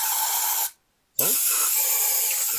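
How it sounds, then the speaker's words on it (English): Strong, steady brake cleaner spray hissing close by on a big-block Mopar engine, briefly cut off for a moment, then resuming at full force. "Now I'm just hammering it with brake clean."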